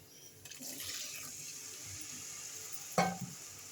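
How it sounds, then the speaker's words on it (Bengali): Water splashes into a pan of frying ground spices for a rui fish and potato curry, bringing a soft sizzle, stirring scrapes and one sharp hissing burst near the end, quiet and close. "সামান্য একটু জল দিয়ে দেবো"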